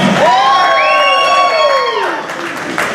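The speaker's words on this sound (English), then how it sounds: "cheering and screaming as loud as you can" A wrestling audience cheers and screams at full volume in a loud, sustained roar, with high whoops and shrieks rising above the crowd before it eases slightly toward the end.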